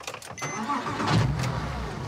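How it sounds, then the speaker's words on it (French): A car engine cranks briefly with a key turn and catches, then settles into a steady idle, heard up close with no one speaking. "Je te laisse démarrer le moteur?"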